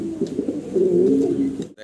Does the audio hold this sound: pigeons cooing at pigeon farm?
yes